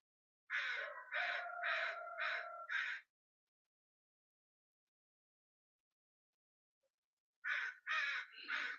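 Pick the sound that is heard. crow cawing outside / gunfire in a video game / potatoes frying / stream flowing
crow cawing outside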